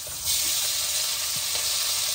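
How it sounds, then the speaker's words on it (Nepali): Potatoes frying in oil for an egg curry give a steady, close, dense sizzle with soft crackle throughout, with no voices. "अब आलु हालेर आलुलाई भुट्छु लोलो पार्छु"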